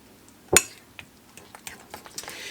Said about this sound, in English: it's just as easy to crush it up and start getting things mixed up here together